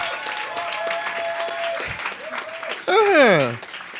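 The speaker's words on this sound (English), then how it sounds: "You guys should clap now." An awards-presentation audience at a business summit claps steadily, with voices and a rising shout or whistle-like cheer swelling near the end.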